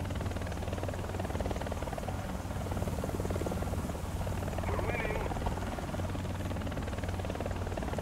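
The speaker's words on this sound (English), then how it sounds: "you have to be careful with your speed because this helicopter likes to go." Helicopter flying in the War Thunder video game, a steady, moderately loud rotor thrum and engine buzz that holds evenly throughout.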